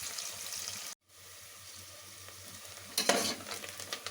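Onions fry in oil in a pan, a soft continuous sizzle with a brief silent gap, then a louder stirring burst near the end, quiet and close.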